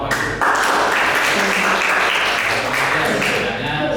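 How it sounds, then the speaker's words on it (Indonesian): A room of teachers claps loudly and continuously in a close, dense burst of applause that begins abruptly and holds at full strength, with faint voices underneath. "Oke, tepuk tangan kita semua, Pak Ibu."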